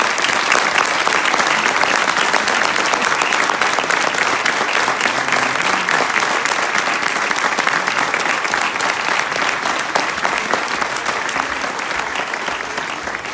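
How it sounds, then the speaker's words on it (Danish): Dense, sustained applause from a large crowd honouring the family of world champion cyclist Mads Pedersen at a hometown celebration in Tølløse, steady and loud throughout, fading slightly toward the end. "at vi giver dem en klapsalve."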